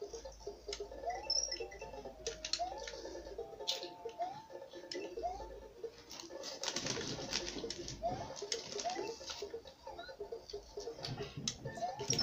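Pigeon cooing in GTA 5 on Xbox 360, repeated soft coos rising and falling at a steady pace across a faint in-game ambience, with a few ticking clicks and no talk.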